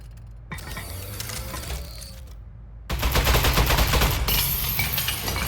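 A turret in a video game fires, starting with mechanical whirring and clicking, then after a brief gap erupting into a loud, sustained rapid stream of shots that continues to the end.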